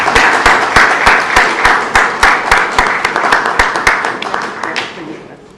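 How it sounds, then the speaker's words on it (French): Audience applause at a book launch ceremony as a professor is invited to the stage, dense clapping with loud, rhythmic unison claps in a steady beat, tapering off toward the end. "Sous vos applaudissements."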